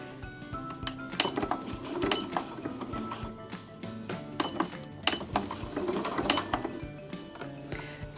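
A sewing machine stitches a quilt block at close range, producing irregular mechanical whirring and clicking with a few metallic knocks throughout, no talk.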